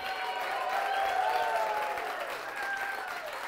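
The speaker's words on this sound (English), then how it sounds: "help me give a round of applause" Steady applause from a crowd fills the whole stretch, dense and even, with a faint tone or voice running underneath.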